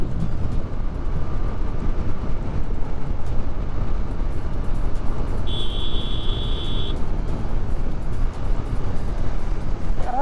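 Continuous engine drone and wind rush from a motorcycle riding on a mountain road toward Srinagar, steady and loud throughout, with a brief high tone partway through.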